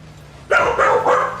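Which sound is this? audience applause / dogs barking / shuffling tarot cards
dogs barking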